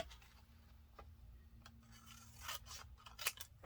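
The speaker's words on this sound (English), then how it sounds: "Take your scissors." Scissors cut through a paper tag in a mixed-media craft project, several faint, crisp snips spaced over a few seconds in a quiet room.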